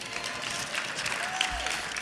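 An audience at a city State of the City address claps briefly, a dense, fairly faint patter of many hands heard from across the hall, steady for a couple of seconds.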